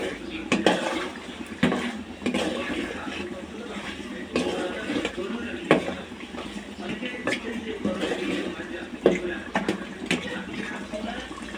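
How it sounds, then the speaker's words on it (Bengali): Rohu fish heads frying with spices and mung dal in a pan, with a spatula scraping and knocking against the metal in irregular bursts over a low sizzle, and a voice talking throughout. "দেখো, মাছের মাথাগুলো আমি একেবারেই কষিয়ে ফেলছি, সাথে মুগ ডালটাও কিন্তু খুব ভালোভাবে কষিয়ে ফেলছি।"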